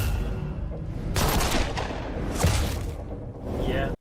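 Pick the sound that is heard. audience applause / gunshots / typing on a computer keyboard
gunshots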